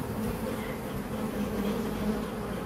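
Honeybees buzzing at an open top bar hive during a July honey harvest: a dense, steady drone of many bees, continuous and fairly close, with no voices.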